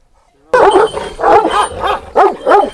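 Several Turkish shepherd dogs, including Kangals, bark loudly and close by in quick, repeated yelps and woofs after a brief silence, in a village.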